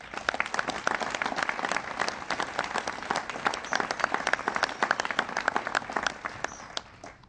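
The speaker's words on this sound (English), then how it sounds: "Please give them a round of applause." An audience applauds at a climate change event, a dense, steady patter of many hands clapping for several seconds before it tapers off near the end.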